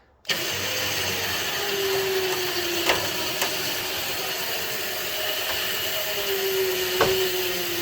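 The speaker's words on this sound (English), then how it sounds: "So let's go and engage the winch here." A winch drags a totaled truck off a trailer, starting abruptly into a steady, loud mechanical drone with a whining tone and occasional sharp creaks and clanks.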